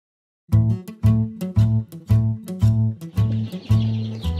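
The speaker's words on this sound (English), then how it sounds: "we haven't checked up on the chickens for a while." Chickens cluck close by in a steady rhythm, about eight loud repeated calls in a row, with no talking.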